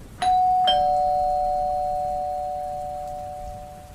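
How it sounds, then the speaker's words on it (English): A two-tone doorbell chime rings once, a sharp first strike followed by a second, each tone ringing out and slowly decaying into a quiet, still room. "I rang the doorbell."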